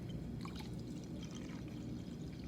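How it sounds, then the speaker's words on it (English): Vinegar poured into a container at a school lab bench, a faint, steady trickle of liquid running for a couple of seconds with no talking. "And I'm going to pour it in."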